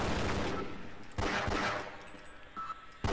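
Shotgun blasts in the game Half-Life come as several loud booming shots, two or three heavy reports a second apart with dense rumbling tails, alone without talk.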